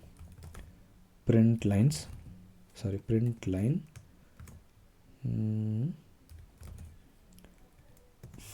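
Python code is typed on a computer keyboard, brisk bursts of clicking keys interleaved with a person speaking nearby.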